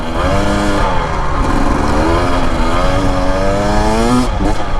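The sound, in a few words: Husqvarna TE250 dirt bike engine revving in third gear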